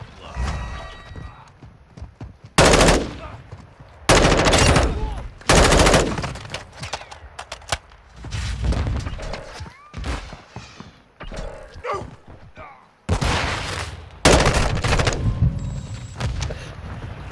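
Bursts of M4 rifle fire in Modern Warfare 2 on the Shoot House map, several loud broadband volleys spaced through the stretch, with game noise and a voice in between.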